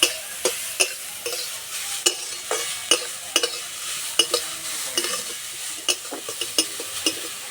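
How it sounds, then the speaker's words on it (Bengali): Grated carrot fries with cardamom while a spatula stirs it in steady, evenly spaced scraping strokes over a soft sizzle. The sound is close and fairly loud, with no voices. "এবার গাজরটা ভালো করে ভেজে নেব।"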